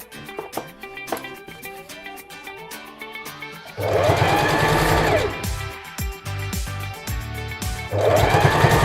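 A sewing machine stitching a dance costume runs in loud close bursts, whirring steadily for a few seconds, pausing briefly, then starting up again amid faint handling clatter.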